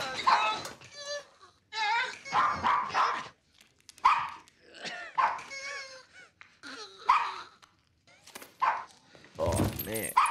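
Dog barking in a scene from The Sopranos, heard in short bursts of yelps and whimpers mixed with dialogue and background sound, with people talking over it.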